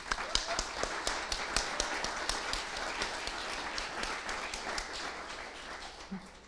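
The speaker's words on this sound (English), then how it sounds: "Please join us in giving our sponsors a round of applause." An audience applauding a live stream sponsor at a storytelling event at Rock Bottom Ranch, a steady wash of many hands clapping for several seconds that tapers slightly at the end.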